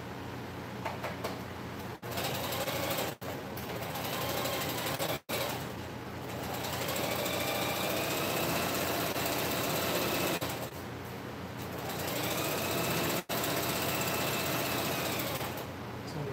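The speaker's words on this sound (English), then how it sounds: "I'm just sewing another foot." A sewing machine stitches a fabric foot in a workshop, running in a steady, loud, close whir for most of the stretch, broken by a few brief stops and restarts, with no talking over it.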